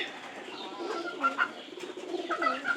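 Pigeons cooing close by where pigeon chicks have hatched, soft rolling coos repeating in short bursts with a faint chirp.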